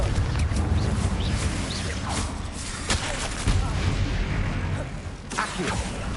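The Confringo blasting spell in the video game Hogwarts Legacy sets off heavy booming explosions and bursts, thick and continuous with a few sharper cracks standing out.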